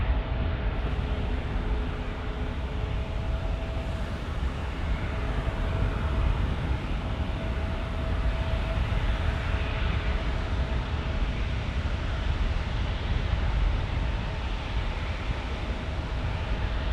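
A United Airlines airliner passes overhead near a busy San Diego runway, producing a loud, continuous broadband roar with a steady rumble and faint whining tones that holds throughout.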